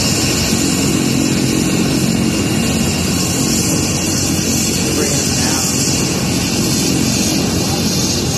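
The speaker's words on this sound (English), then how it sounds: "Oh, that's a helicopter?" A helicopter or similar aircraft drones steadily overhead for the whole stretch, a loud, continuous engine and rotor roar with no pauses, and a faint voice can be heard beneath it.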